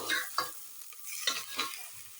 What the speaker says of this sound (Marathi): आता मी टोमॅटो टाकून घेतोय